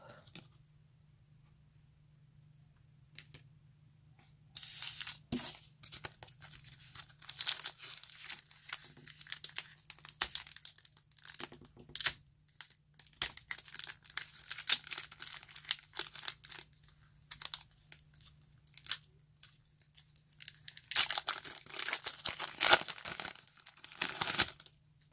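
Pokemon booster packs being torn open, crinkling foil wrappers and ripping bursts that come and go over a quiet background hum, close to the microphone.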